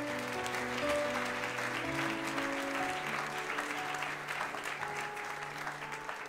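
An audience at a Christian worship gathering applauds steadily, a dense, sustained clapping that fills the room, with faint music or voices underneath throughout.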